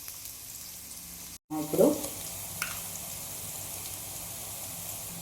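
Cinnamon, cloves and onion hit a hot pan and sauté, a steady soft sizzle with a brief clatter as they drop in, continuing evenly after a short word is spoken.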